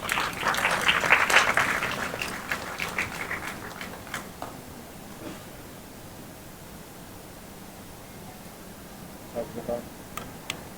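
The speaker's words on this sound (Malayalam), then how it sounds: "ഒരു വലിയ കൈയടിയാകാം." A crowd claps warmly at a Malayalam film switch-on ceremony, a dense burst of applause that fades within a few seconds, followed by quieter scattered claps and a few isolated claps later.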